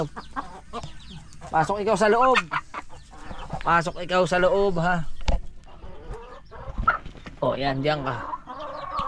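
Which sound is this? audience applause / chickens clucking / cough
chickens clucking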